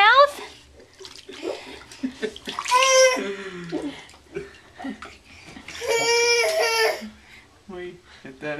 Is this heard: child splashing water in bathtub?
yes